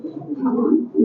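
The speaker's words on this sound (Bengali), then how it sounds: "আর এটা হলো আমাদের ছাড়া কবুতর, এটা আমরা প্রায় 7-8 কিলোমিটার দূর থেকে ছাড়ছি।" A released red checker pigeon coos in a low, continuous throaty murmur through the short stretch, fairly close and moderately loud, with no talking over it.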